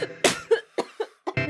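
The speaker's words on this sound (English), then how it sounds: "I think I already coughed" Several short, sharp coughs in a quick series, close and fairly loud, with brief silences between them.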